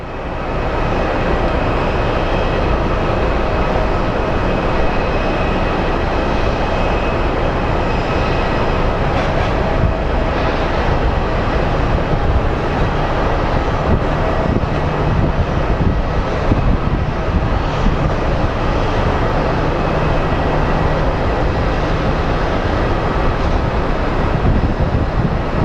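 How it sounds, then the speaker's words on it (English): An airliner arriving from Houston at Phoenix Sky Harbor International Airport roars in a loud, sustained engine rumble and whine that holds steady for the whole stretch, with no voices. "here comes our flight out of Houston"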